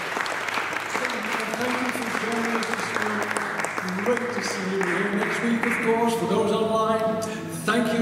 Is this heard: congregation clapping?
yes